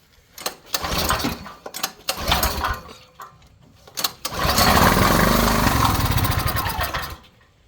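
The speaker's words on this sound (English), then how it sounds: "it fires over in starting fluid" A small inverter generator engine sputters and coughs through several pull attempts, then fires on starting fluid and runs loudly for a few seconds before dying out, heard up close.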